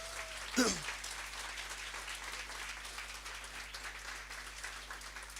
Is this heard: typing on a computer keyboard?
no